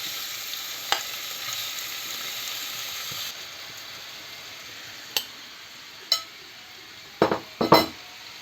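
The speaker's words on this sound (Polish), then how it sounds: "Przesmażamy sobie e, to wspaniałe mięso, nie? Ale skwierczy ten smalec." Steady hiss of lard sizzling in a pan as meat fries for bigos, with a few sharp clinks of a utensil against the pot near the end.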